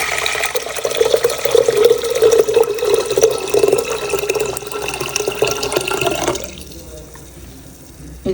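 Cold tap water pours steadily into a pot, a continuous splashing run that stops abruptly near the end, leaving quiet.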